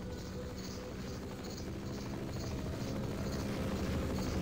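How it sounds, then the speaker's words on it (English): A helicopter in the video game Half-Life with an RTX mod, a steady rotor drone with a pulsing high whir that keeps a regular beat, moderately loud and continuous throughout. "Like this helicopter in motion."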